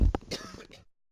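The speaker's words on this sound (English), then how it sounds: "sorry about that, just had to cough" A single short, close cough or throat clear from a man, followed by a brief rasp and silence.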